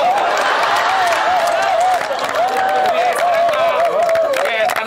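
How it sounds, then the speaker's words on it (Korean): Studio audience applause on a Korean variety show filmed outdoors in Uiseong, North Gyeongsang, a steady wash of clapping with a sung or spoken voice line running over it throughout. "박수 한번 주세요."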